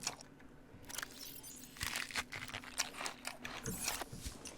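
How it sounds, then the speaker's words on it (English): Crunchy, repeated munching and chewing from eating food in the video game Subnautica, a series of close, irregular bites with no talk over them. "The munching noises is just ridiculous."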